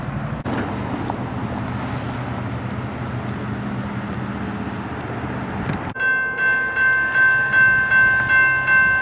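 An eastbound Norfolk Southern freight train rumbles past steadily and loudly at close range, then a sharp shift brings ringing, pulsing wheel and rail tones with a rhythmic beat as the cars roll by.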